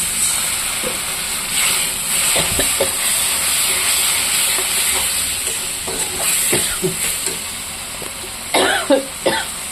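A Bengali spice mix with cumin powder sizzles in the pan as water is splashed in, giving steady frying hiss with clustered crackling bursts and a few louder stirring clatters near the end, with no talk.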